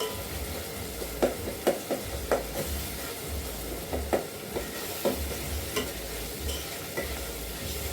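Kienyeji vegetables with tomatoes being stirred and turned in a frying pan, soft sizzling under a series of spatula scrapes and knocks at uneven intervals, close and fairly quiet.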